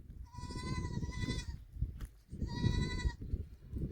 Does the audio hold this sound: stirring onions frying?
no